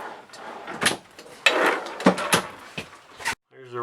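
A kitchen drawer in a 2013 Forest River Flagstaff 21 FBRS travel trailer slides and knocks shut, giving a few close, quick wooden clacks and scrapes in a quiet interior.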